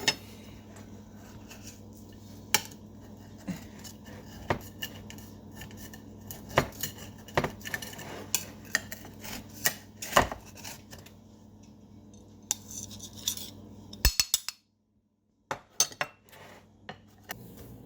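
Knife or server cutting into a no-bake Jello cheesecake with a graham cracker crust in its pan, with repeated scraping taps and clinks against the dish, close and fairly quiet, then a short silence.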